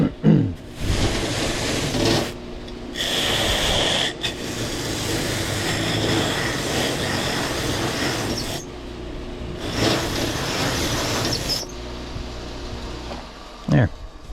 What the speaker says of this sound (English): And we go back to our mop sander and around, smooth this over a little bit.